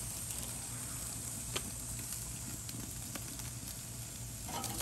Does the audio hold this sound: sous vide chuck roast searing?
yes